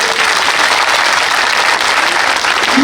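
A large crowd at an Independence Day gathering applauds loudly and steadily, a dense, continuous wash of clapping that fills the whole moment without pause.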